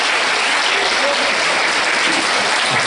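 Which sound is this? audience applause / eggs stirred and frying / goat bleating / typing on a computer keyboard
audience applause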